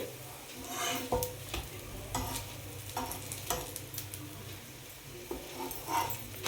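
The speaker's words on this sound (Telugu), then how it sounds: "సో నేను ఇప్పుడు కాలిపోయింది కదా, సో తిప్పేసుకుంటున్నానండి." Small mung bean dosas (chitti pesarattu) with onions sizzle in a pan while a spatula scrapes and flips them, giving a steady frying hiss broken by sharp metallic scrapes and taps.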